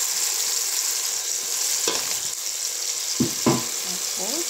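Tomatoes and spices frying in a pan for shrimp biryani give a steady loud sizzle, broken near the end by a few scraping stirs of a utensil against the pan.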